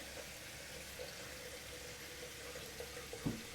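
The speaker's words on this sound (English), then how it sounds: "Give it a rinse." A razor is rinsed under a running tap, giving a steady, fairly quiet wash of water with a brief louder splash near the end.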